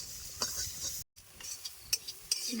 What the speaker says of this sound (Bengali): ডালে নারকেলটা একটু বাইতে দিবেন তাহলে নারকেল বাজার সুন্দর একটা সেন্ট বেরোবো